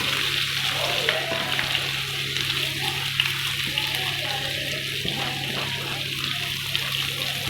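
Four medium chopped onions frying in a pan for a masala bhindi fry, giving a steady close sizzle with a crackling, watery hiss that continues evenly throughout.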